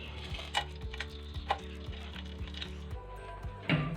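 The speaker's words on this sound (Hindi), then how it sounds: "पैन में मैंने 2 खाने के चम्मच ऑयल के डाल लिए हैं, और सबसे पहले इसमें मैं डाल रही हूँ साबुत गरम मसाले।" Whole garam masala spices sizzle in two tablespoons of hot oil in a pan, a close, steady crackle broken by light ticks and taps of stirring.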